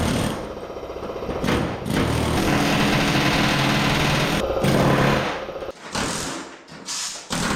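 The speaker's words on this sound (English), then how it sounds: "This Mac Tools air hammer." A Mac Tools air hammer blasting rust off a Model A hotrod in a closed garage, a loud, rapid continuous hammering rattle in several long bursts with short pauses between them.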